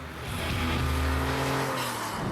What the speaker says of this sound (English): Our classic car expert Christoph Bauer is tooling around the northern Italian province of Trentino in a Porsche